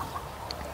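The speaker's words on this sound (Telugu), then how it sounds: "నాటుకోళ్ళు, కడక్నాథ కోళ్ళు పెంచుకుంటున్నాం" Kadaknath and country chickens kept free-range on a farm give a few soft clucks, including one brief sharper call, against a faint, steady outdoor background.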